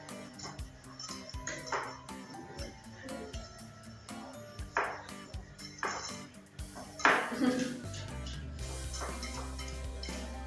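Butter and sugar are beaten into a brownie batter in a bowl, heard as repeated close clinks and scrapes of a utensil against the bowl under ongoing talk, ending in a steady low hum.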